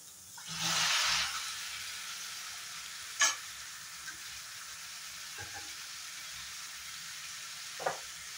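Raw banana and potato pieces coated in turmeric drop into a pan of fried spices for a curry, setting off a loud sizzle that settles into a faint steady fry, with a few soft stirring knocks close by.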